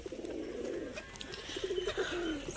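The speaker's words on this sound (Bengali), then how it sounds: "তো আমার ঝুটি বালিগুলো সব উপরেই ডাকাডাকি করছে, দেখুন।" Crested pigeons coo and call from overhead, a steady run of soft, low warbling coos repeating over rain-day ambience, fairly close and with no talk.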